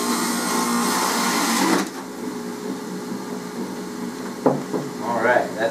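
A juicer grinds the last couple of carrots, a loud steady whirring motor that drops off partway through and then gives a few short crunching bursts as the final pieces go in.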